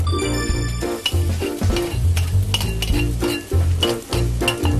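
Onions frying in a hot pan, with a steady loud sizzle broken by repeated clinks and scrapes of a utensil stirring against the pan.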